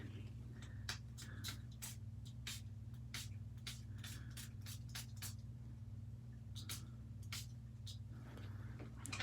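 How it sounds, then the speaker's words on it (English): Short bursts of spray hiss repeat at an irregular pace over a steady low hum, each a quick airy spritz close by. "Okay, so I'm wondering what will happen if we spray this."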